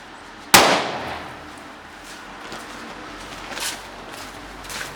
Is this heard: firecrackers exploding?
yes